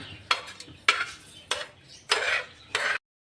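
A spoon stirs urad and chana dal frying in a pan. There are about five distinct scraping, clinking strokes against the metal, close and fairly loud, over a faint background hiss.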